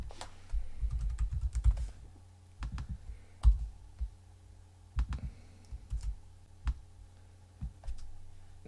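Typing on a computer keyboard while writing a MATLAB function, with close, quiet clicks in short irregular bursts separated by pauses and no talking.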